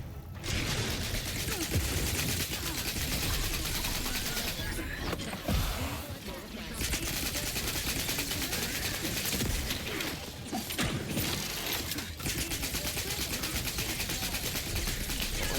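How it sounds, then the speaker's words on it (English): Gunfire in The Outer Worlds 2 sci-fi game: dense, continuous rattling shots and mechanical clatter, loud and unbroken for the whole stretch, with brief lulls and little speech. "Something is still shooting at me."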